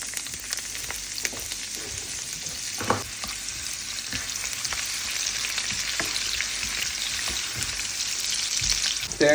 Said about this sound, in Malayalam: എണ്ണ എന്താ ചൂടായി കഴിയുമ്പോഴേക്കും നമുക്ക് കുറച്ച് പെരിഞ്ചീരം ഇടാവേ അതിലേക്ക്